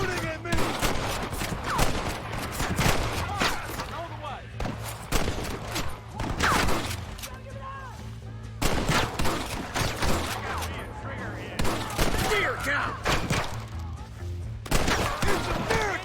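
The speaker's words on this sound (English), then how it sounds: "Stop shooting at me!" Gunfire from the 2010 video game Red Dead Redemption: repeated sharp shots and bursts crack across the whole stretch over a low steady hum, with shouted voices breaking in between the volleys.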